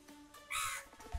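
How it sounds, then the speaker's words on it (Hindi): A single crow gives one harsh caw outdoors, loud and close, standing out against a quiet background with faint low rumbles. "अरे कौन कौआ है"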